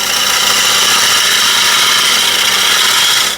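A wood lathe spins a large maple bowl at around 1000 RPM, with a loud, constant high-pitched machine whine that holds steady throughout and no speech.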